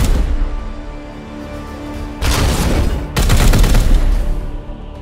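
Gunfire in Warhammer 40,000 Chaos Gate Daemonhunters: a dense, loud burst of sustained shots, a brief break, then a second, longer and heavier volley that fades over a low rumbling background.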